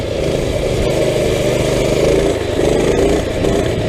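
A motorcycle engine drones loud and close during wheelies, a steady rumbling run with slight rises and dips in pitch and no talking.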